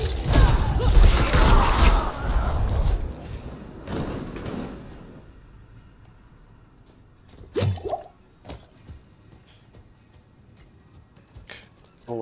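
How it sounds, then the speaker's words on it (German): Wet splashing and squishing in a Diablo 4 dungeon, the Rudelmutter's lair: a dense, loud wet burst at first, fading into sparse drips and short clicks with quiet gaps between them. "Irgendwas spritzt."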